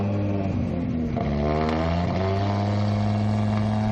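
Historic racing cars, an Alfa Romeo GTV and a Ford RS2000, revving in a busy pit lane at a classic racing meeting: loud, sustained engine drone with a rising and shifting rev, close by.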